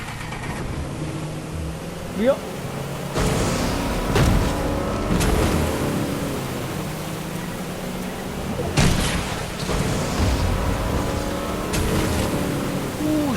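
A motorboat engine in the Fortnite video game drones steadily and loud under excited Italian talk, with splashing water and occasional surges in the engine.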